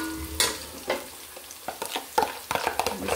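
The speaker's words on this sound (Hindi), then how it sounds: "बस प्याज़ों को मैं इतना ही सुर्ख रखती हूँ, इससे ज़्यादा सुर्ख नहीं करती" Onions frying in a pan until reddish-brown, stirred with scattered scrapes and clinks over a quiet sizzle, the strokes growing busier toward the end.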